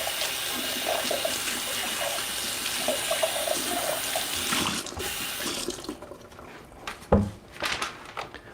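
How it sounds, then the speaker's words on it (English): A milk pitcher for a Breville Barista Express is rinsed under a running tap: a steady rush of water splashes for about six seconds, then cuts out, followed by a few soft knocks and clunks in the sink. "I'm just gonna wash up my milk pitcher here."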